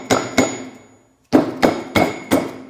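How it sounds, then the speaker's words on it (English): A dead blow hammer strikes a part on a Farmall Super H tractor during restoration, six sharp close blows in two groups of two and four, each with a brief metallic ring. "Give it a hand here with my dead blow."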